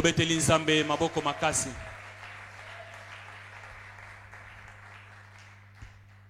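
A church congregation at a sermon breaks into applause after a preacher's loud call: his voice rings out first, then broad, softer clapping and crowd noise spread out in the hall and slowly fade.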